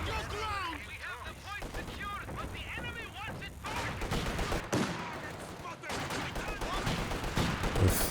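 Light machine gun fire from Guards infantry in Company of Heroes 2, bursts of rattling shots and heavier artillery-like booms layered with battle noise, under a commentator's steady talk.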